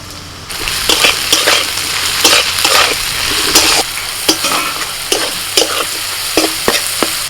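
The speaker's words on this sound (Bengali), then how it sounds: "সবজিগুলো ভাজা হয়ে গেছে" Carrots and mixed vegetables for Schezwan rice sizzle steadily in a hot pan while being stirred, with repeated scraping and clinking strokes of the spatula against the metal, close and fairly loud.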